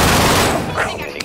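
A PPSh submachine gun rattles in a dense burst of rapid hipfire during a video game match, loud and close, fading off toward the end, with voices in the mix.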